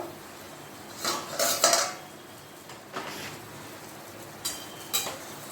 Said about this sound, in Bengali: দেখো আমি ঢাকনাটা খুলে দেখছি কি হলো।